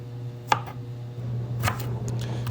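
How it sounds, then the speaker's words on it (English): Vegetables for broccoli cheddar soup are chopped on a board, a few sharp knife taps spaced irregularly over a steady low hum. "So now you just have to cut up all the vegetables."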